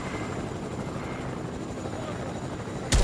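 Helicopter in the Fortnite video game, a steady loud rotor drone running throughout, ending in a sudden louder burst at the very end.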